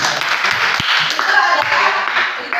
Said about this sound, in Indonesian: kita kasih tepuk tangan bagus sekali ya